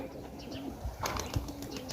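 A young tumbler pigeon comes in to land, giving a brief burst of fluttering wingbeats midway through. A soft, continuous outdoor background and a few faint bird sounds surround the flapping.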